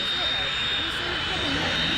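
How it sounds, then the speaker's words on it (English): A Hawker Hunter jet flies at an airshow, its engine producing a steady, loud broadband roar with a high whine that holds throughout, while a commentator talks over it. "In the Heritage Aviation Hawker Hunter. Very colourful machine, good for the camera."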